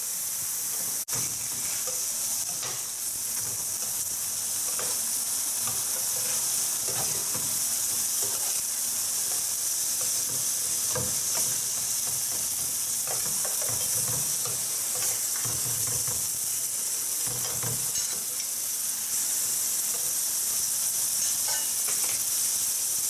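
Cheeseburger patties frying on a hot cooking surface, a continuous close sizzle and hiss that holds steady throughout with faint crackles and occasional stirring noises.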